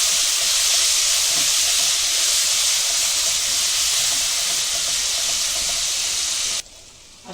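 Onion, ginger and garlic fry in a pan, giving a steady, loud sizzling hiss that carries on evenly and then cuts off abruptly near the end.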